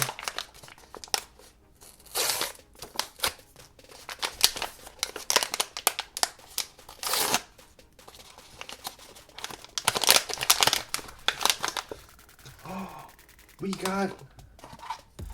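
Waxy paper of a blind box bag crinkles and rustles in short bursts as it is handled and torn open, close up, with quiet gaps between the crackles.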